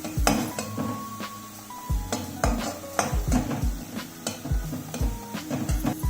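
Ginger garlic paste being stirred and sautéed in a pan for pav bhaji: a gentle sizzle under repeated sharp clinks and scrapes of a spoon against metal, close and fairly loud.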